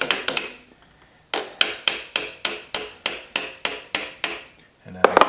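Light hammer taps seat a part into place on a slow-speed carbide grinder build, about a dozen evenly spaced sharp knocks in a steady rhythm, close and clear, after a brief burst of clatter and before more handling noise.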